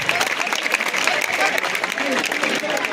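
A crowd at a school alumni welcome for former teachers applauds loudly in a steady clatter, with a voice talking over the clapping.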